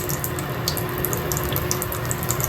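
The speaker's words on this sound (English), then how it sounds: "and I'm going to turn the water on" Water runs steadily from a newly installed bathroom faucet into a sink, a close, continuous splashing hiss with no talking.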